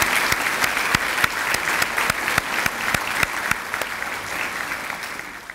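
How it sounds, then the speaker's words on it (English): An audience at the United Way of the Lower Shore 2018 annual meeting claps steadily, a dense, moderately loud round of applause with a few sharp individual claps standing out, lasting several seconds without talk. "Join me in giving Dr. Bell a round of applause in her absence"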